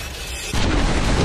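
A sudden deep boom from an explosion in the World War I video game Valiant Hearts breaks a quieter stretch, then a loud, rumbling roar continues to the end.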